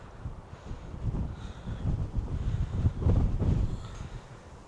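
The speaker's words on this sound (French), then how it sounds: "Aïe, le vent, le vent, le vent." Wind blowing hard across a hilltop on an outdoor walk: a rough, low, roaring buffet against the microphone that surges and swells in gusts, loudest in the middle before easing off.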